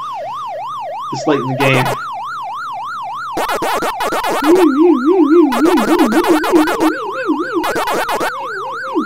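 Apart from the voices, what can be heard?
siren sound in Pac-Man video game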